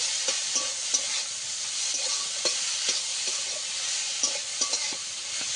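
Continuous close sizzling with repeated soft scraping strokes of a spatula stirring potatoes in a hot frying pan, at an irregular rhythm.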